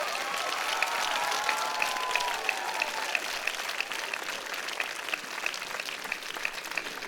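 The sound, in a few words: audience applause for a named award recipient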